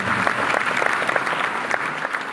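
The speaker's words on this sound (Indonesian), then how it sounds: "Tepuk tangan yang paling meriah buat Tuhan." A church congregation claps enthusiastically during a sermon, dense overlapping applause that stays steady and loud for the whole short stretch.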